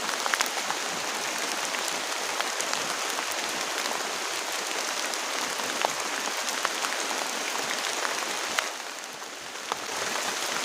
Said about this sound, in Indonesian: Oke, hujannya masih deras banget teman-teman.